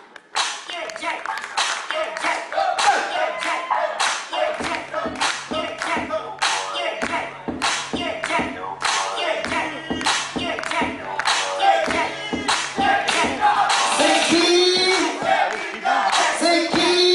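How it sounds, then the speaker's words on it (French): Audience applause at a holiday club evening show in a live venue, sustained dense clapping with cheers rising and falling, loud and continuous throughout, with a voice briefly over it. "Sous vos applaudissements pour Mika."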